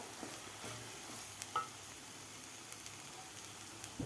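Masala of homemade Kashmiri red chili powder and coriander powder sautés in a pan for village-style chicken rassa, a faint soft sizzle with occasional light scrapes, no talking.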